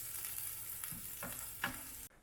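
Onions beginning to brown sizzle in a hot pan with a steady crackling hiss, and a few soft stirring scrapes punctuate it before the sound cuts off abruptly.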